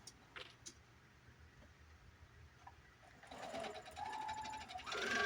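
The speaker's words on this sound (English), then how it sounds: "I hemmed the bottom of my skirt." Sewing machine hemming the bottom of a skirt starts up partway through, a fast steady mechanical whir that runs continuously after a quiet stretch of faint handling clicks, getting louder near the end.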